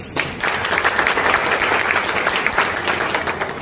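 Steady applause from an audience welcoming the Himadri Herbs family at a direct-selling company event, many hands clapping densely and continuously for several seconds with no talk over it.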